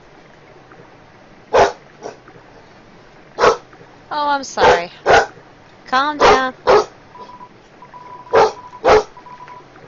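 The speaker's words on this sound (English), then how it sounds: "That's the sound of a dog that's demanding to go out." A dog in the game Undertale barks sharply and repeatedly in short bursts, some clustered together, with a person speaking briefly between the barks.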